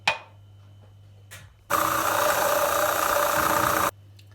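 An electric mixer whisking three eggs with a glass of sugar, a loud steady whirring hum that starts abruptly, runs for about two seconds, then cuts off, with brief handling knocks before it.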